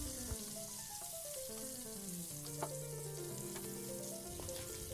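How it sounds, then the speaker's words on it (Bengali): Pointed gourd pieces frying in hot oil, giving a steady, close sizzle that runs without pause, with faint clinks and stirring touches mixed in and no talking. "সব পটলগুলোই ভাজা হয়ে গেছে।"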